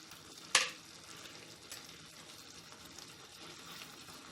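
One spoonful of cumin seeds drops into hot oil for a rajma and prawn curry, giving a sudden sharp sizzle that quickly settles into a faint, steady frying hiss, with no talk.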